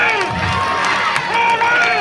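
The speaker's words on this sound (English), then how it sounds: "Give them a round of applause." At a high school football game, the crowd in the stands cheers and claps, giving a loud, dense roar of voices and shouts that swells and carries on under the announcement.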